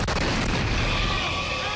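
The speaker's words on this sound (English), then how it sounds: "There was just a massive explosion downtown with a huge fireball." A massive explosion of an RV downtown produces a loud, rumbling boom, a single heavy blast with a long roaring, reverberant decay that fills the whole moment with no talking.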